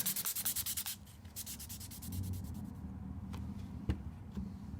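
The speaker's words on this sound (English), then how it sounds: "I did some sanding, even though I don't like it." Sandpaper scrubs a small wooden butter knife in quick rhythmic back-and-forth strokes, close and fairly quiet, then gives way to softer, slower rubbing and a light knock.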